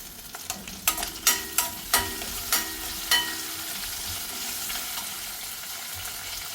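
Onion and curry leaves fry in hot oil, a constant close sizzle with several sharp spoon clinks and pops early on that fade into a smoother hiss.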